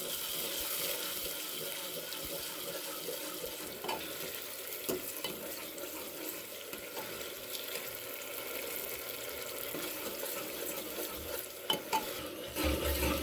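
Ginger garlic paste, whole spices and a little water fry in a pot for mutton korma, giving a soft, steady sizzle with light stirring scrapes, fairly faint and without talk.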